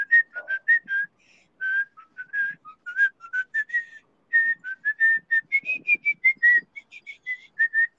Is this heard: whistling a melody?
yes